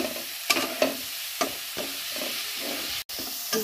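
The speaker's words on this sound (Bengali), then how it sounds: "এই যে কাজু আর পোস্ত বাটাটা দিয়ে দিলাম, ভালো করে হবে, ভাজা ভাজা হবে মশলাটা।" Masala with cashew and poppy seed paste frying in a pan for chital fish curry, a steady close sizzle broken by repeated scraping strokes of a spoon stirring, no voices.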